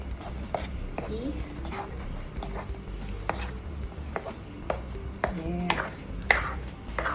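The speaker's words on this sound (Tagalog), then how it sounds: "Just continue to stir it." A spoon scrapes and knocks through thick maja blanca mixture in a pot, repeated soft clacks and scrapes in an uneven stirring rhythm, with a person speaking briefly over the cooking sounds.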